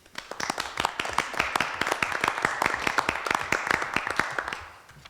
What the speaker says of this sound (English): if you want to applaud, that'd be great about now